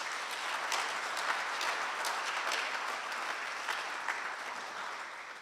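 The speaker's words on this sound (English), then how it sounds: "let's give them one more round of applause" A room of guests at a scholarship luncheon applauds the student recipients, with dense, continuous clapping held at an even level for several seconds before slowly thinning.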